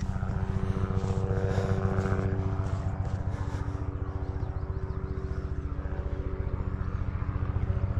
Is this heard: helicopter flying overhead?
yes